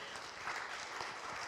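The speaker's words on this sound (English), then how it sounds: "we can give them a round of applause" Soft, fairly distant audience applause at a synagogue congregational meeting, honoring five B'nai Mitzvah kids; a brief steady patter of clapping.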